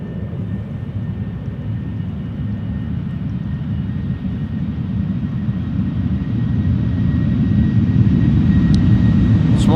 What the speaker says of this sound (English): Small 737-700 with a relatively tall tail. Not too heavily loaded, rotating relatively early.